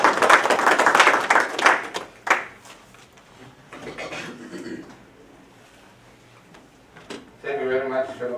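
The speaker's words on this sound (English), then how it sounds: "I thought we would clap for it." Council members in a meeting chamber break into a round of clapping that builds loud, then tapers off, with talking mixed in.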